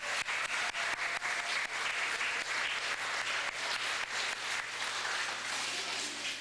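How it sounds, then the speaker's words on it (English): Steady, dense applause from a crowd of parents and families at a Cub Scout Pack Blue and Gold Banquet, continuous and fairly loud throughout with no talking over it. "how about another round of applause"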